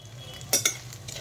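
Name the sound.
frying ginger paste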